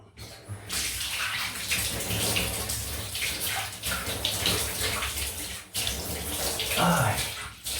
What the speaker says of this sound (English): Just going down for the cold water rinse